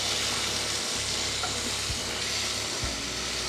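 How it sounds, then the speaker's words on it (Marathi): Potatoes sauté in hot oil tempering for a Navratri fasting dish, a steady loud sizzle with occasional stirring scrapes and no voices. "आधी परतायचा आहे आणि तो शिजवायचा या फोडणीमध्ये."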